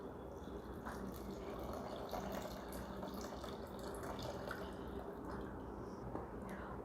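Water is poured into a cooking pot for a rice and lentil lunch, a steady close splashing stream that continues evenly throughout.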